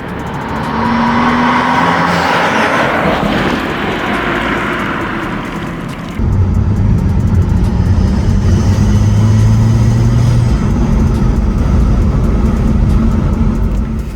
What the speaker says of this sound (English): It has an awesome sound, all sorts of intake noises and swooshes and all that good stuff.